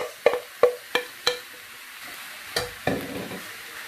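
Beef frying in a dry pan without oil, with a soft sizzle under a series of sharp scrapes and taps as it is stirred.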